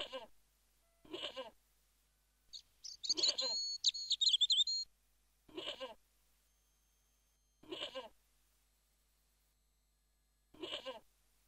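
A tethered goat in the Broken Sword video game bleats in short, wavering calls, about six spaced evenly with long quiet gaps, with a brief chirpy warble partway through.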